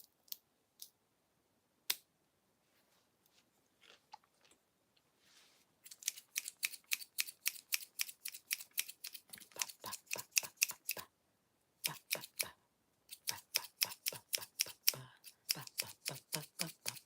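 Scissors snipping popcorn kernels in half up close in a relaxed lo-fi ASMR setting: a few isolated crisp clicks at first, then long runs of rapid, evenly spaced sharp snips in bursts.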